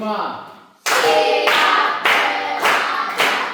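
A classroom of students claps hands together in a few loud bursts of clapping after a voice trails off, each burst dense and close, separated by brief dips.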